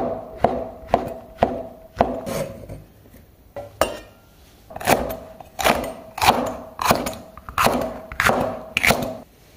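A knife chops vegetable side ingredients for a homemade chicken pot on a cutting board, a dozen or so sharp, close knocks in irregular clusters with brief pauses between them.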